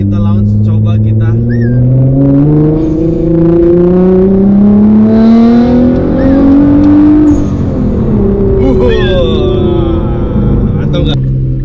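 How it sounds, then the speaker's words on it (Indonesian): Nissan GT-R R35 under launch control, a loud sustained roar climbing steadily in pitch through hard acceleration, with an upshift partway through and people talking over it. "Tapi kita coba ntar ya launch control di sini, apakah langsung melaju dengan cepat seperti ketapel"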